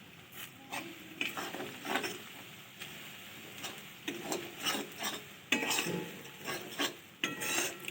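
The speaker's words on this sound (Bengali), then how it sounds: "নারকেলটাকে আমরা ভাজবো কিন্তু যেন করা না হয় হুম সেইভাবে নারকেলটাকে ভাজবো" Grated coconut stirred and fried in a pan for a sweet coconut filling, giving a steady soft sizzle broken by irregular scraping strokes of a spoon against the metal, close and moderately loud, with no voices.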